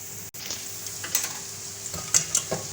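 Onions fry in a pan for a chicken tikka kaleji masala, a steady soft sizzle with occasional scraping clinks as they are stirred, close by with no talking.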